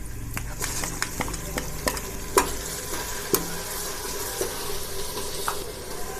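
Cumin and ground coriander sizzle and crackle in a hot pan while a utensil stirs and scrapes, with intermittent clinks; close and fairly quiet.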